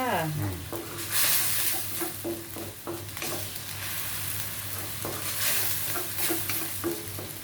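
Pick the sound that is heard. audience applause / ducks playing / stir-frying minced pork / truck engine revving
stir-frying minced pork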